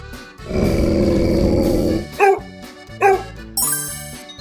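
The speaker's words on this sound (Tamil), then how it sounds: "நாய்." A dog barks twice, sharp and close, after a long rough growling roar, with light background music and a chime at the end.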